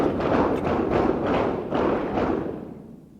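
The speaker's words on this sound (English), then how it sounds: "that class is doing some shooting and they need to" Gunshots from a nearby class shooting at a range, heard as a series of about five loud, muffled booming thuds with reverberant tails, fading out at the end.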